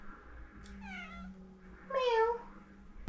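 A domestic cat meows twice indoors at home, a softer call followed by a louder, longer one, close by with faint background noise.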